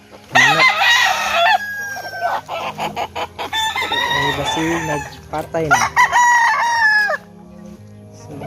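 Chickens cluck and squawk loudly up close, with a rooster crowing in the mix, while a person speaks briefly over the flock.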